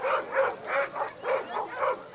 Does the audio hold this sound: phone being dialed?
no